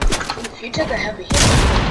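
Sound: gunfire from the Overseer's gun in the Fortnite video game

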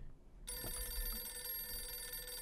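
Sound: telephone ringing

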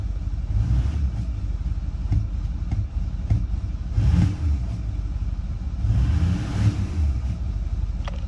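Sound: Ford 6.4L Powerstroke diesel engine blip around 1,250 rpm

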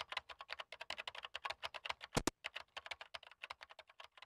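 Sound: computer keyboard typing, from the video game Hayarigami Revenge

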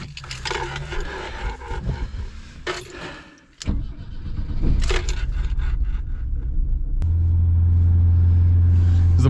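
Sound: BMW E21 engine being started

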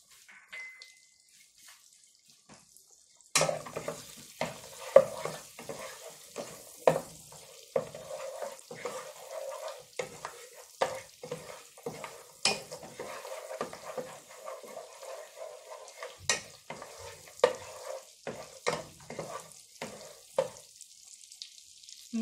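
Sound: cardamom, cloves and cinnamon sizzling in oil

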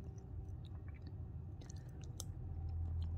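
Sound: chewing creamy buko pandan with nata de coco

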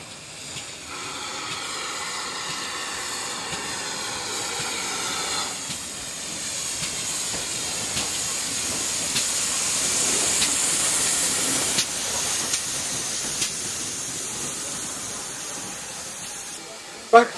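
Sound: steam-hauled historic goods train

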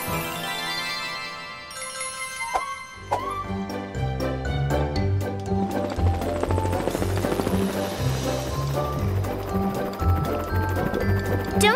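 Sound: cartoon helicopter

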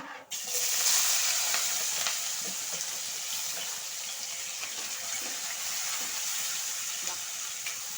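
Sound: chana dal and mustard seeds frying in hot oil

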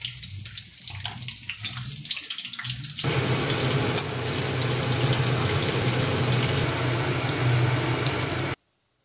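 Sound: bitter gourd slices frying in oil

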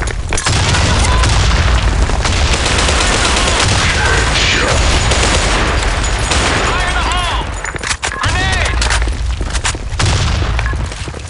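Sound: grenade explosions and gunfire in the video game BlackShot

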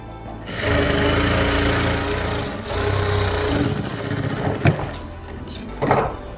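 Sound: sewing machine stitching a shaleen/velvet suit

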